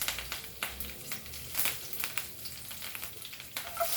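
Curry leaves and cloves frying in hot oil for Goan beef chilli fry, giving a steady crackling sizzle with scattered louder pops, close and moderately loud, with no talking.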